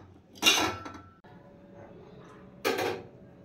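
Pots and metal utensils clatter in a home kitchen while strong tea is strained, two loud bursts of clinking separated by quieter handling noise.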